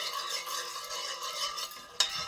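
A spoon stirs pickle brine of vinegar, rock salt, sugar and citric acid for red tomato pickle, a close, soft swishing and rasping swirl ending with a sharper clink against the container, no talking.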